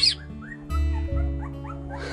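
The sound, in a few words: pack of dogs barking and whimpering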